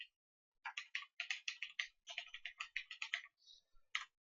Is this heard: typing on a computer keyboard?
yes